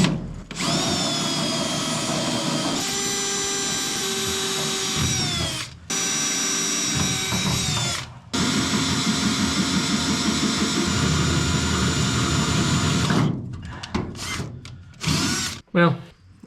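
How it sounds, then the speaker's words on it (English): Power drill boring through metal for a transmission mount on a 2JZ/CD009 swap, its grease-dipped bit giving a loud, steady whine in three long runs with short breaks, then a few brief bursts at the end. "you take some generic grease and you dip your drill bit in it, and in theory it'll catch your metal shavings"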